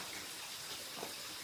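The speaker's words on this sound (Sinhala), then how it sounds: "වතුර පාරකුත් යන සද්දෙකුත් ඇහෙනවා" A stream of water runs near a rock cave along the steep trail up Adam's Peak. It makes a faint, steady, far-off rush with no break and no voices.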